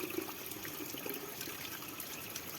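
Natural spring water, filtered up through the ground and swollen by monsoon rain, flows steadily in a broadband rushing wash with no break, close by and fairly loud, with no voices.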